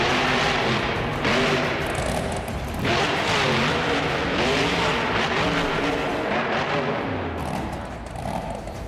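A monster truck engine roars loudly at a Monster Jam event in a New Orleans arena, a continuous revving drone with surges and crowd noise that tapers off near the end.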